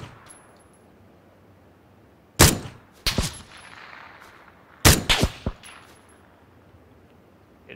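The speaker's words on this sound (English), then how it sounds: "Getting shot at." Gunfire in PUBG: two close, loud bursts of several rapid shots each, sharp cracks with metallic ringing tails, separated by a few seconds of quiet ambient background.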